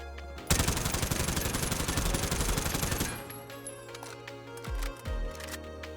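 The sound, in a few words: AK-74u gunfire in video game Warzone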